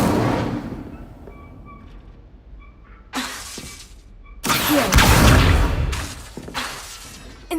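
Fire spells cast in Hogwarts Legacy burst out as loud crackling whooshes and explosive blasts, several in quick succession with quieter gaps and brief tonal chimes between them.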